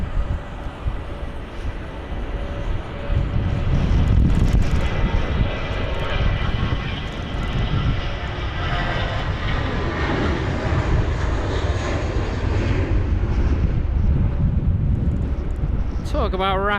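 An airliner roars loudly on departure from London Heathrow during Storm Kathleen, its engine noise building and holding steady amid gusting wind, with voices talking over it.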